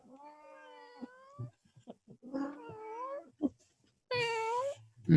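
A pet cat named Shishi gives several drawn-out, wavering meows close by, the last one louder and more insistent, with small soft noises in the gaps.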